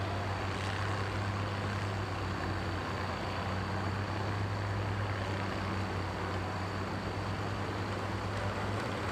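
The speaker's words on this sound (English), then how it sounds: "The tractor's working good today." A 12,000-pound stock tractor drives a hard pull at a tractor pull, its heavy engine holding a constant, thick drone throughout with no voices.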